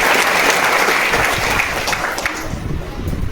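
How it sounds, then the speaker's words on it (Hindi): An indoor audience gives a strong round of applause that thins out and tapers near the end as voices start up underneath. "डॉक्टर बनना है, बहुत अच्छी बात है, तालियां होती है"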